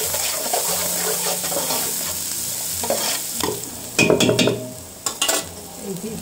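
Chili and onion frying in oil for raw jackfruit sabzi, a close sizzle broken by repeated spatula stirs and metallic scrapes against the pan, with brief louder clattering bursts late and no speech.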